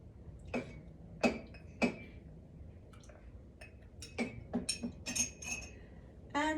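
Glassware clinks as a whiskey glass is set out to serve a Sazerac cocktail, a series of sharp, bright clinks and taps at uneven intervals over low room noise, with a quick flurry of knocks near the end.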